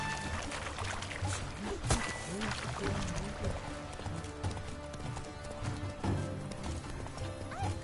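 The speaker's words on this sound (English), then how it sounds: "My horse is honestly going too fast." Horse hooves clip-clop at a fast pace in The Witcher 3: Wild Hunt, a steady rhythmic patter close by with a brief whinny, heard under a player's talking.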